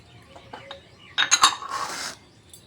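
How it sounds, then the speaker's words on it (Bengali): Sugar poured into biscuit dough mixture in a home kitchen, heard as a brief soft granular hiss following a few light clinks against the bowl, close and quiet. "এবার এর চিনিটা এর ভিতরে ঢেলে দিচ্ছি।"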